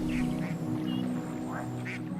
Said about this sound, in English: and listening to the ducks.